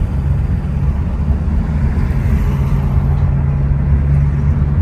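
A Mazda with a gearbox fault, its engine droning steadily and loudly from inside the cabin while driving through the gears, a constant low rumble with no talk.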